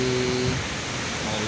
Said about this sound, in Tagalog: Sigurado na ito kung ganito kalakas ang hangin